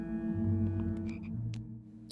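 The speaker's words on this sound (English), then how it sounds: "I hear the ribbiting of a chocolate frog" Chocolate frog in the Harry Potter Prisoner of Azkaban game croaks with a few short, moderately loud ribbits over a steady low game-music bed, without talk.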